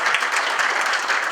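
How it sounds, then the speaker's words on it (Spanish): Audience applause at a talk on AI in the administration of justice in Tampico, Tamaulipas, welcoming a guest: dense, steady clapping from many hands, sustained and fairly loud with no voices. "les pido un fuerte aplauso por su presencia el día de hoy en la ciudad de Tampico"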